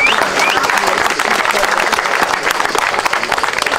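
Crowd applause at a boxing match between an older fighter and a pro boxer, a continuous dense clatter of many hands, fairly loud and close, with shouting voices mixed in.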